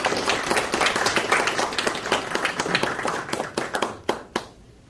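An audience at an automobile industry day ceremony in a hotel ballroom in Seoul claps to welcome a government minister, a lively burst of applause that thins into scattered individual claps and fades out near the end.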